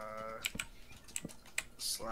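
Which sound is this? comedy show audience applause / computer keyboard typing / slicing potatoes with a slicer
computer keyboard typing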